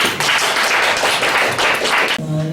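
A seminar audience applauding together, dense steady clapping that runs about two seconds and then stops abruptly, leaving a quiet room tone.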